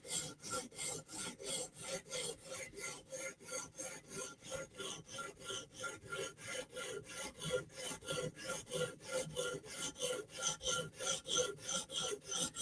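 A Giant Mouse knife's chipped bevel is rasped across a 120 grit TSProf Alpha diamond stone in quick, even back-and-forth strokes, a close and steady rhythmic grinding that continues without pause.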